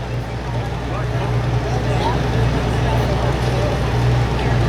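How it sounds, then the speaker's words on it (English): A 1,200 lb modified lawn tractor at a truck and tractor pull drones with a steady, loud engine hum, while an announcer talks over the noise throughout. "It's a good pulling tractor."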